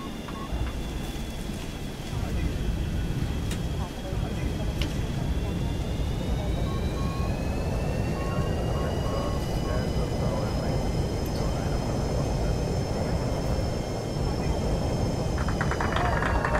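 A simulated Boeing 737-200 TwinJet touching down in X-Plane 11, with a steady jet engine roar and rising, gliding turbine whine throughout, fairly soft and continuous.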